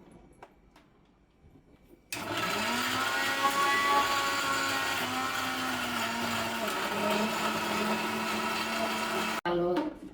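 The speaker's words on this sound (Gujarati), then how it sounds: "થોડીક મિક્સર ગ્રાઇન્ડરમાં જગ્યા થઈ છે, આપણે થોડીક આમાં સીંગ નાખી દઈએ" A mixer grinder grinding chutney with peanuts starts with an abrupt loud whirr, runs steadily for about seven seconds and then cuts off, with quiet room noise before and after.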